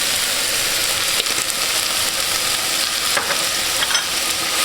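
Seasoned meat with garlic powder stirred and sizzling in a frying pan, a steady close fry with scraping stir strokes throughout and no talk.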